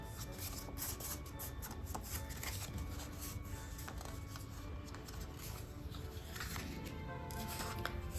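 Paper folio pieces for a Christmas house flip-flap craft are being folded and creased, giving a continuous close rustling and scraping of paper with small crisp snaps throughout.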